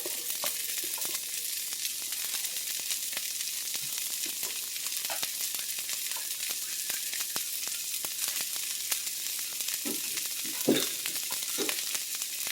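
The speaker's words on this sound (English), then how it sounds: "I'm putting the onions and the celery in first because they take a little bit" Onions and celery frying in a pot, giving a steady, continuous sizzle with occasional stirring clinks and scrapes, close up and alone without talk.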